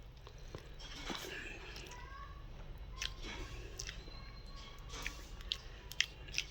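Someone eats rice mixed with oily brinjal curry and ghee, making close, soft, wet chewing and squishing sounds with occasional light crunches and smacks.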